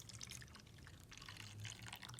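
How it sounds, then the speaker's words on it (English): Warm water pours steadily into a mini washing machine for cleaning makeup sponges, a faint continuous splashing and trickling with no talk. "let's put warm water"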